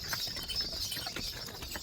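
Village bullocks walk beside a river near Ghatanji in Yavatmal district, their hooves making faint, irregular clopping steps against a soft outdoor background.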